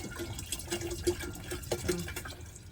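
Filtered water pours into a container for kombucha, a soft, steady trickling and gurgling with small splashy fluctuations throughout.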